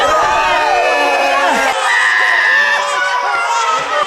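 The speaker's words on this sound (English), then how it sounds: "With a screaming baby." A baby's loud, shrill screaming fills a small room in continuous wailing bursts with wavering pitch, heard up close.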